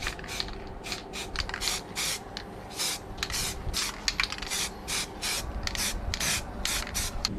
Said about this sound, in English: I'm just grinding them down at the moment